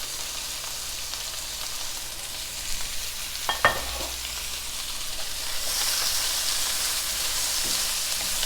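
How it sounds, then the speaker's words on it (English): Carrots frying and being stirred in a pan with salt and pepper, a steady sizzle running throughout, a few sharp scraping clinks near the middle, and the frying growing brighter and louder toward the end. "I'm just going to let that cook for about a minute, stirring it"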